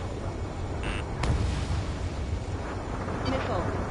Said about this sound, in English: Missile launched. Anti-aircraft guns destroyed.